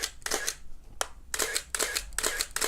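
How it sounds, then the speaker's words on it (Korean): Canon EOS film camera bodies firing their shutters at 1/8000 second, a series of about six crisp mechanical clacks with short whirring winds between, close and fairly quiet, no talking. "지금 8000분의 1초로 찍은 건데 셔터음은 저는 얘가 더 좋아요"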